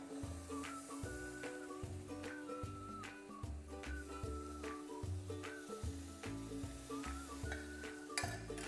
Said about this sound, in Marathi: आता माझा पाकसुद्धा शिजलेला आहे, आणि मी थोडा थोडा करून हा याच्यामध्ये घालून घेणार आहे।